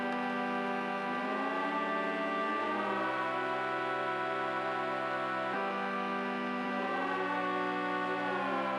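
A sustained synth chord layer from a Serum patch for melodic drum and bass, held tones gliding between chords in a slow progression, steady and loud with no voices.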